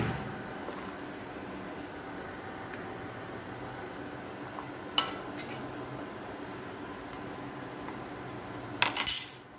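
Cooked raw plantain thoran is moved into a serving vessel, with soft scraping under a low background hiss and a couple of sharp metallic clanks of a spoon against the pot.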